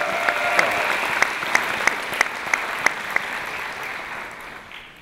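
An audience at a UCLA doctoral hooding ceremony gives warm, sustained applause welcoming a speaker, with a few sharper claps and cheers standing out before the clapping tapers off.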